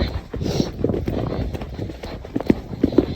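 A cob hacking out with a rider gives irregular hoof clip-clops on a hard surface, close and moderately loud, with a few sharper strikes toward the end.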